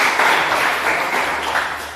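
A class group in a classroom applauds, a loud, dense wash of clapping that holds steady throughout.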